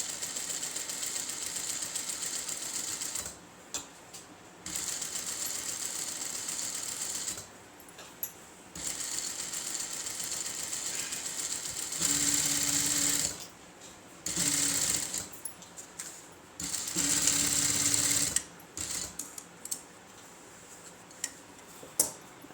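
A sewing machine runs in repeated bursts of steady stitching on an Aari work blouse, stopping and starting several times with short pauses, close and fairly loud with no talk.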